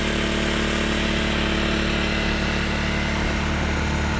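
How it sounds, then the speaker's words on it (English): Honda EM600 portable generator engine running steadily after sitting unused for years and smoking a little, a loud continuous motor drone with no pauses or talk. "Well, there it goes. Smokes a little, but I haven't adjusted anything on it."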